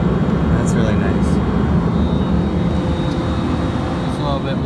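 Inside the cabin of a Dornier 328 (J328) jet in flight, a broad, steady engine and air roar fills the space at constant loudness throughout.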